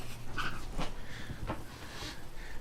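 A dog in the video game Fallout 4 pants close by in quick, rhythmic breaths, with a few short whimpering sounds over a steady background hum.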